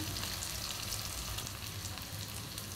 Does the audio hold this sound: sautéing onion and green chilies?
yes